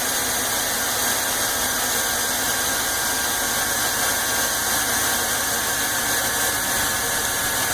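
A car engine with about 105,000 miles runs on fast idle as a loud, steady, unbroken drone with a faint high whine, close up and with no voices.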